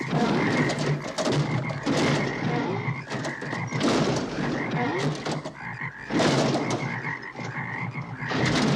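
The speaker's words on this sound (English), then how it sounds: "she summons a bunch of frogs that hip, hop, and ribbit his car into the lake" A dense chorus of frogs croaks loudly in a movie scene, with rhythmic overlapping bursts pulsing roughly every second and no talking.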